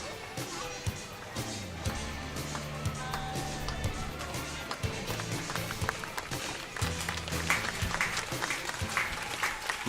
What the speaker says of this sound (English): crowd gets involved a little bit.